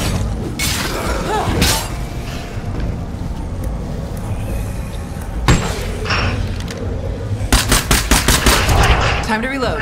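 Loud bursts of gunfire ring out in the zombie survival game State of Decay 2, with sharp rapid volleys and glassy cracks separated by brief lulls, ending in a quick rattling string of shots.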